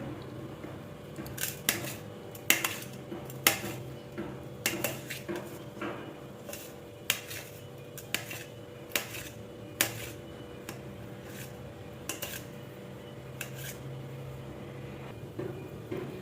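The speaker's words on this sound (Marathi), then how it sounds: "त्यानंतर आता हे बटाटे ना चिरून घेणार आहे एकदम बारीक." A knife finely chops potatoes on a cutting board while sabudana khichdi is prepared, with sharp, irregular taps and clicks about a second apart over a quiet kitchen background.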